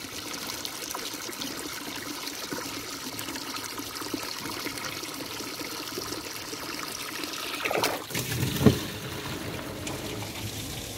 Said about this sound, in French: comme Philippe il prend de l'eau, et ben l'arroseur ici, il a une toute petite pression